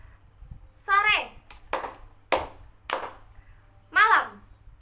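At a presentation, an audience gives a few sharp, separate claps in a call-and-response between a presenter's spoken calls, each burst short and crisp, with the voice heard clearly before and after.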